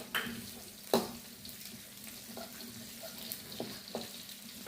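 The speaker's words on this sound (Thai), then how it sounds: "ผัดข้าวใส่ขุนเชียง" Stir-frying rice in a wok: a steady sizzle with scraping and clanking of a utensil against metal, a sharper knock near the start, no one talking.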